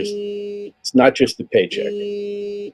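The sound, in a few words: phone ringing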